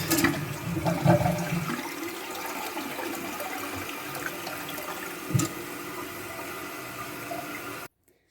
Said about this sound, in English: I'm gonna close the water and flush it out